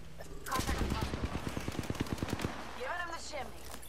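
Rapid automatic gunfire from an Apex Legends match, a close, loud burst of about a dozen evenly spaced shots lasting two seconds, followed by brief electronic game tones.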